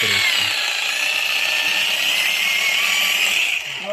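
A rotary hammer drill runs continuously at high speed, a loud, steady whine with gritty grinding, easing off briefly at the very end.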